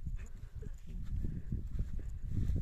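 Horse moving near tents at a campsite, soft irregular hoof thuds on the ground close by, fairly quiet and continuous.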